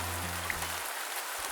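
Heavy rain pours in a forest, a dense steady hiss; a low hum underneath cuts out partway through.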